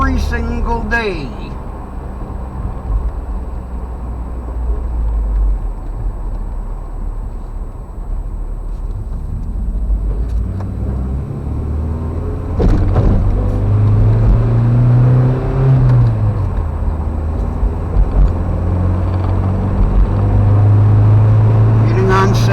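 A car driving toward a freeway, a steady engine and road rumble that swells with acceleration partway through, with a brief clunk near the start and people talking inside the cabin.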